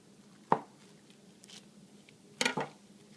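A knife cuts through a bar of Zen facial soap, giving one sharp thunk, then a double knock a couple of seconds later, close and distinct against near silence.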